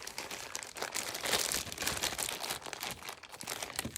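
Paper envelopes from a thrift-store haul being handled up close, a run of quiet crinkling and rustling with no speech.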